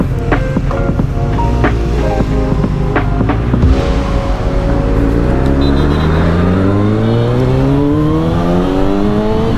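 A Kawasaki ZX6R sport motorcycle's engine revs and climbs through the gears on a night ride near a beach, loud and sustained with rising pitch as it accelerates, heard up close.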